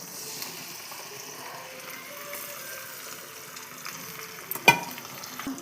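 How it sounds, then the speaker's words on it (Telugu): Drumstick pulp stirred and lightly fried in a pan for a homemade drumstick pickle, a soft continuous sizzle with scraping stirs and one sharp clatter near the end. "లైట్గా వేపుకోవాలండి, మరీ వేపుకోకూడదు."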